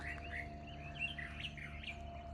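Several birds chirp outdoors on a spring morning, repeated short tweets at moderate distance over a steady low hum, no voices.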